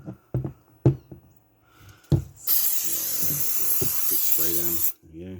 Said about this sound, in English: This is just a contact cleaner.